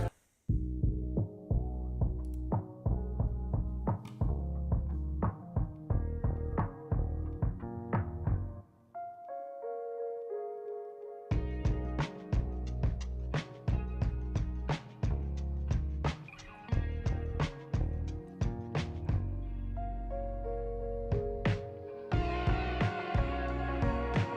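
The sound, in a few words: dream pop music track with reverb effect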